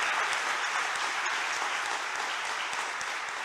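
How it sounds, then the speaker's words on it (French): Audience applause in a hall for a minister at a national youth training programme event, an even, continuous patter of many hands at moderate level throughout. "je voudrais que la salle puisse applaudir Madame le ministre"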